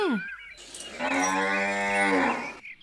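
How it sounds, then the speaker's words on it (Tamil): A domestic cow that had broken its tether and wandered into neighbours' yards gives one long, loud, close moo lasting over a second, standing alone with no talk over it. "எங்க வீட்டு மாடை புடிச்சிட்டு வந்து நிக்கிறீங்க"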